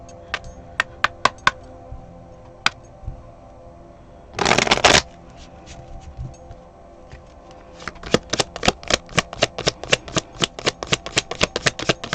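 Stiff tarot cards are shuffled up close: scattered single card flicks, a brief dense riffle in the middle, then a quick run of crisp repeated snaps, with no voices.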